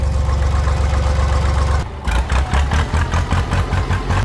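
Kubota L1-24 tractor with a direct-injection diesel engine, shuttle gearbox and power steering, running at a steady rhythmic idle close by; near the midpoint it briefly dips and then settles into a pulsing, chugging beat.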